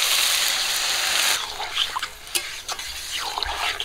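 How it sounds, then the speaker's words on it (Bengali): Water poured into a hot pan of lightly fried shrimp and spices for a Bengali chorchori, a steady broad rush that breaks into bubbling and scattered sizzling crackles as it settles, close and alone. "যেহেতু এটা চচ্চড়ি করবো তো অল্প করে জল দিয়ে দেবো।"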